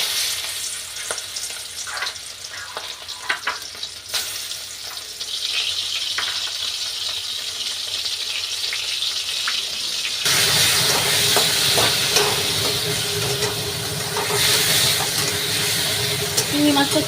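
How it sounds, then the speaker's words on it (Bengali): Prawns hit hot oil in a wok: a steady sizzle builds, then jumps to a loud, dense crackling fry for the final seconds, with brief stirring noises. "তেলটা গরম হয়ে গেছে, আমি চিংড়ি মাছটা ছেড়ে দিলাম।"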